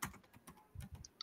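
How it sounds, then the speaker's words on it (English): Typing on a computer keyboard, a quick irregular run of soft key clicks and taps, faint and close, with no talking. "I'm typing it in the chat box."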